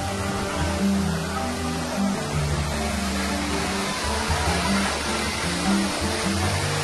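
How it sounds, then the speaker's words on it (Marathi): Zenith waterfall at Khopoli near Lonavala pours with a steady, dense rushing roar, close and unbroken, with no voices over it. "हे बघा हा वॉटरफॉल आहे."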